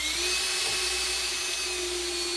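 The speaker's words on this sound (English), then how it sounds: "Then I came back and put 3 screws in each board." A power drill whines steadily and loudly for a couple of seconds, driving screws into wooden boards being fastened to the skis of a homemade sled.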